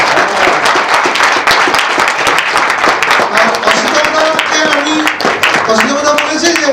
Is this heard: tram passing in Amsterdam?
no